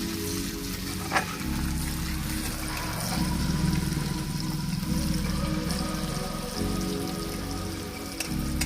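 Onions sizzle steadily in hot oil in a pan while chicken curry is being cooked, a continuous close crackle with a low hum beneath and one sharp clink partway through.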